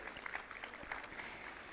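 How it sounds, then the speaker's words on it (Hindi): Faint, distant applause from the audience at a Maha Shivratri celebration, a steady wash of clapping that continues evenly throughout. "आप सबके लिए बहुत बहुत तालियां बजाइए भाई अपने लिए"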